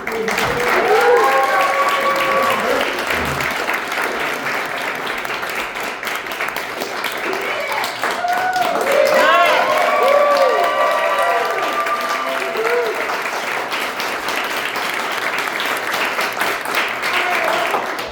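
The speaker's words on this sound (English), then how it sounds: "Give them a round of applause, guys." A theater audience at a student comedy show applauds loudly and continuously, with cheers and whoops rising over the dense clapping, close and sustained throughout.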